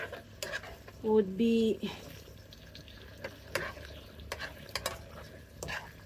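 Salmon and king oyster mushroom sauce stirred in a pan: soft scraping and low simmering under brief talk, with a short tonal sound partway through.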